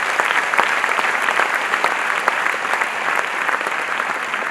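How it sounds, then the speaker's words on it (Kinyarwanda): Sustained, dense applause from a concert audience at the Selah Concert, a Christian worship event, with many hands clapping evenly and loudly for the whole stretch. "Dukomere Yesu amashyi."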